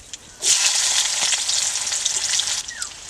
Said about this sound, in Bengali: তা আমার ভাজা হয়ে গেছে, দিয়ে দিচ্ছি কুচানো পেঁয়াজ।